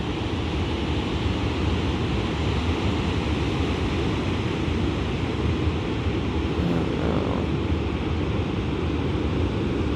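Ocean surf along the coast at Bandon, Oregon, a steady, broad wash of breaking waves rolling continuously with no pauses, fairly loud and unbroken throughout.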